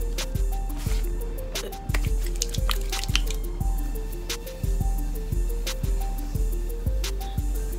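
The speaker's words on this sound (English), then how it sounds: "I'm gonna start off by putting some of this Cream of Nature coconut milk stuff in it." Cream of Nature coconut milk hair product squelches wetly as it is worked through dark type 4 hair, a rhythmic series of close, sticky squishes and drips repeating about every half second with no talk.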